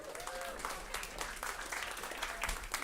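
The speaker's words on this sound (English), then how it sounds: "So give her a round of applause." Audience clapping welcomes a guest back to the stage at a food and sustainability talk, a faint, continuous patter of hands heard from a distance with a little murmuring mixed in.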